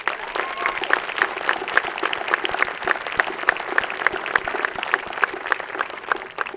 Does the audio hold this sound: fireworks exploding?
no